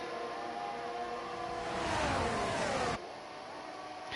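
Onboard racing car engine in a racing video game, a steady high-pitched drone that rises in pitch as it revs, then cuts sharply to a lower tone at a gear change.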